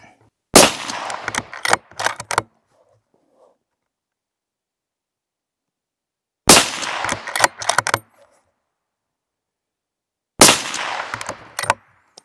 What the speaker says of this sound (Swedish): Och så skjuter vi tre smällar.